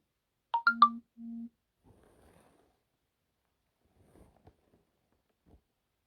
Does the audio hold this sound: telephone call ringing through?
yes